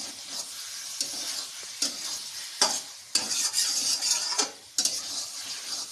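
Masala for a paneer chicken curry fries in a pan under repeated stirring, with sharp scraping strokes of a spoon at irregular intervals over a close, steady sizzle and no voices.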